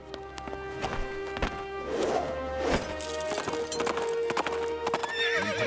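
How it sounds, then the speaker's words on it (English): A horse gallops with steady, rapid hoofbeats that clip-clop loudly up close, and a whinny breaks in along the way, with no talking. "Andale, Tornado! We ride"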